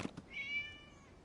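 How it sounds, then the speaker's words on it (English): A single drawn-out cat meow from the game Genshin Impact, clear and rising then falling, preceded by two quick soft taps. "It was just a cat."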